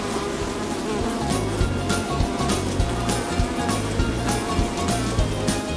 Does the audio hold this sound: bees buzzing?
yes